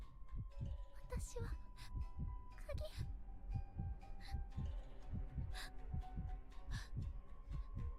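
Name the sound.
heartbeat sound effect in Re:Zero anime episode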